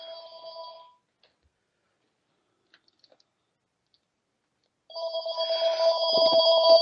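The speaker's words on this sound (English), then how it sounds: "Excuse me for the phone ringing." A telephone rings in steady electronic trills, close and clear. A short ring is followed by several seconds of near silence, then a longer, louder ring.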